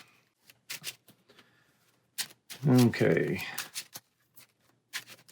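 Marvel Champions cards being shuffled during a tabletop playthrough: a few soft card clicks, then a close riffle-and-bridge shuffle lasting about a second, followed by more light card taps, with one brief spoken word.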